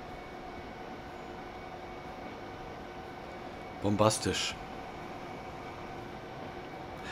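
Steady rumbling hum of a Railjet train running in Transport Fever 2, continuous and even throughout, with someone briefly speaking over it partway through.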